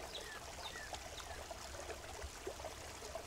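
Water pours from a pipe into a landscaped pond, a steady soft trickling and splashing stream running continuously at low level, with no voices.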